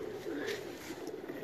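A pigeon at a champion loft in Sialkot gives a soft, close coo lasting about a second, with faint voices in the background.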